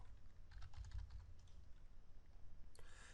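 Keystrokes on a computer keyboard while code for Oracle PL/SQL is typed, a quick cluster of clicks in the first second, a few scattered taps after, and a sharper burst near the end, all close and fairly quiet.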